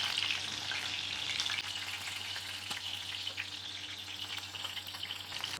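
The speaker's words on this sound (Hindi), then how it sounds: "बस ऐसे अलट पलट करते हुए 10 से 12 मिनट तक चिकन को पका लेंगे।" Chicken pieces frying in hot oil in a pan, turned over now and then while cooking for a chicken tikka pulao, give a steady close sizzle with faint clinks of stirring throughout.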